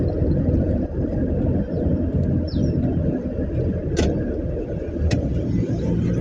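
A car engine rumbles steadily at close range through a U-turn, a low continuous drone with brief sharp clicks or squeaks mixed in, and no talking over it.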